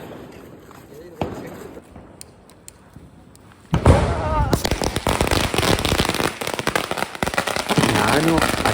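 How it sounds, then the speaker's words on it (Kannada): A long string of 1000 firecrackers goes off during Diwali celebrations, scattered sharp pops at first, then a dense, loud, continuous crackling barrage of rapid bangs; a person talks briefly early on. "ಸೊ ಇದು 1000 ಸರ ಪಟಾಕಿ, ಸಖತ್ ದೊಡ್ಡ ಇದೆ"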